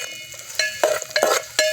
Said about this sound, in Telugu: ఉల్లిగడ్డలు వేసుకోవాలి. గంటతోటి కలుపుకోవాలి.